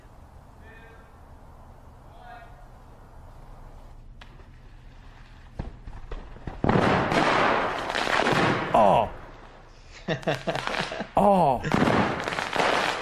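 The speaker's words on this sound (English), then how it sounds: "Bigger, better sodium explosion." An underwater sodium explosion in a pond lets out a deep muffled boom partway through, followed by churning rumble and splashing, with people exclaiming loudly over it.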